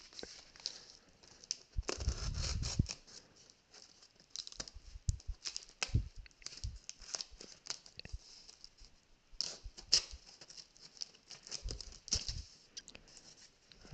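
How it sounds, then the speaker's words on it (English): Sharp scissors slowly slicing open a sealed Flesh and Blood TCG Uprising trading card case box, giving a run of close, crisp snipping and scraping noises with soft rustles and scattered taps, with no talking. "these scissors are supposed to be very sharp, so I'm trying to be as gentle as I can."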